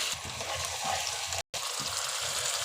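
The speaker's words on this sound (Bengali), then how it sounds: "তেলটা গরম হয়ে গেছে, এখন আমি মশলাগুলো দিয়ে দিব।" Spices frying in hot soybean oil in a pan, a steady close sizzle with a wet, crackling hiss that runs throughout, broken only by one very short gap of silence.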